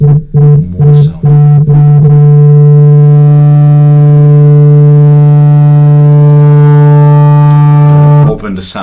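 A Hammond B-3 / XK-5 organ holds one loud, steady sustained tone with the drawbars pulled out, rich in stacked harmonics, after a few short choppy notes at the start.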